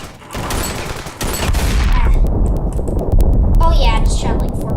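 Dense gunfire rattles in the video game Ravenfield as rapid shots crackle loudly and continuously under excited talking.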